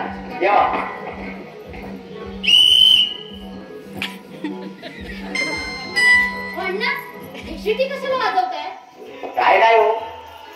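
A whistle blown in short shrill bursts during a comic Marathi stage play, mixed with lively talking and laughter from performers and audience.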